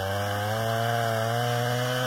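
A 16-inch chainsaw cuts through a red maple tree trunk, its engine a loud, steady high-revving whine held throughout at close range, with no talking.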